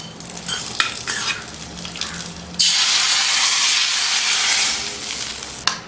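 Mustard seeds and curry leaves tempered in hot oil hit brinjal kadayal with a sudden loud sizzle and hiss, following quieter clinks and stirring, the burst holding steady for several seconds before easing off.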